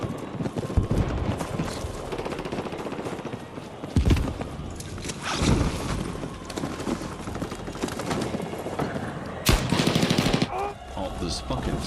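Gunfire in Battlefield 6, scattered sharp shots and short bursts over a busy battle mix, with a few louder cracks standing out amid the clutter.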